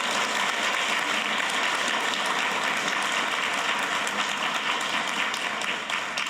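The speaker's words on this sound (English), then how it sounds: "let's give them one more really enthusiastic round of applause." Enthusiastic applause for champions at a regional spelling bee, a dense, loud and sustained roar of many hands clapping in a full room, continuous throughout with no talking.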